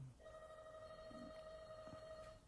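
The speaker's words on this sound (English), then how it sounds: "The phone rang." A telephone rings with a steady electronic warble, heard faintly in a quiet room during an interview.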